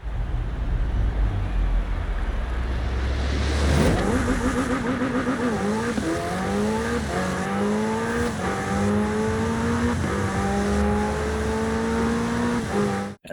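A race car engine in the video game Forza Horizon 4 roars and revs up through the gears, pitch climbing and dropping with each shift, loud and sustained without any talking.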